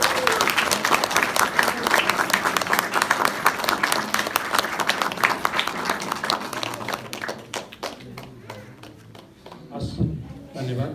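Guests clapping at a Nepali church wedding celebration, a lively burst of crowd applause that runs for several seconds and then thins into scattered claps, with talking and background voices mixed in.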